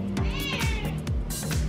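A cat meows repeatedly for attention, several insistent, close cries in quick succession inside a home.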